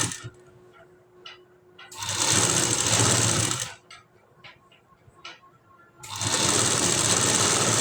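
A sewing machine stitches piping around the neck of a blouse in two loud, steady runs of rapid stitching. Quieter ticks and clicks of the cloth being handled fill the gap between the runs.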